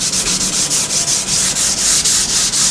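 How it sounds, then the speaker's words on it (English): A 600 grit abrasive pad rubs back and forth along a wooden guitar neck, producing a loud, close, rhythmic hissing scrape with about a dozen even strokes in steady succession. "I'm gonna use this abrasive pad, and it's like 600 grit, and it's really sharp."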